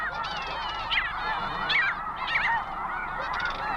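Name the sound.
snow goose honking at nesting colony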